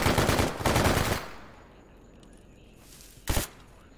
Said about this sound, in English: And immediately, I'm getting shot to pieces.